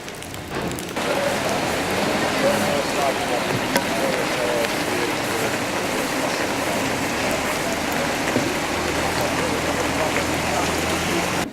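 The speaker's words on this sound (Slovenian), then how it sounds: "Zbudili smo se v deževno nedeljsko jutro." Steady rain falls on a Sunday morning in Lourdes as an even, dense hiss that starts suddenly and carries on without a break, loud and close.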